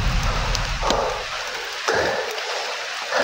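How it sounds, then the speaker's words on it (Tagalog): Heavy rain falling in a forest, a dense continuous hiss of drops with bursts of louder pattering on nearby surfaces, heard alone without talk. "malakas ng ulan"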